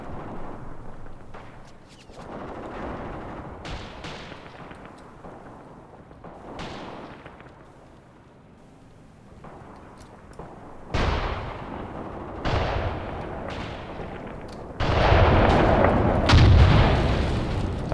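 Incendiary artillery barrage in the war game Graviteam Tactics: a series of heavy booms and explosions at irregular intervals, distant at first and then louder and closer, rumbling together near the end.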